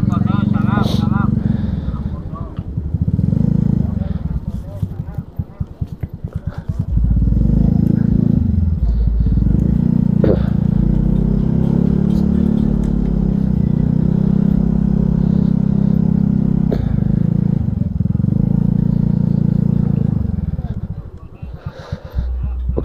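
A motorcycle being ridden in and parked on a touring trip from Jakarta to Dieng, its engine droning loud and close with slowing and revving under wind noise, then cutting out near the end.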